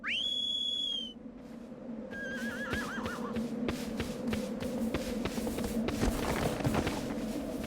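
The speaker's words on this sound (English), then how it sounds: "softly calls his name, Aggro, or whistles for him during exploration." A sharp rising whistle rings out in Shadow of the Colossus, calling the horse, followed by its whinny and scattered hoof clops and shuffling in a game-like outdoor soundscape.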